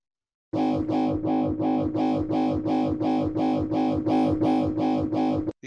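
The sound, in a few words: distortion effect on XFER Serum synthesizer sound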